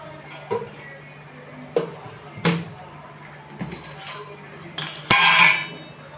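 Spices being stirred and roasted in a pan for Sindhi methi pulao, heard as sharp metallic scrapes and clinks of a spoon against the pan, spaced irregularly over a low steady hum, ending in a louder sizzling clatter.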